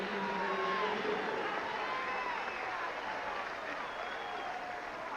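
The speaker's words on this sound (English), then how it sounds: "Nice round of applause from the Philadelphia fans." Baseball crowd applauding in a Philadelphia stadium during a 1997 MLB game, San Diego at Philadelphia, a broad wash of distant clapping and crowd noise that fades slightly, with faint voices underneath.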